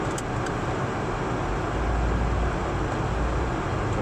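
A car driving along at steady speed, its engine and road rumble forming a constant, fairly loud low drone with no gaps and no voices.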